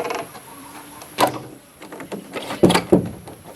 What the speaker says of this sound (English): We can close this door.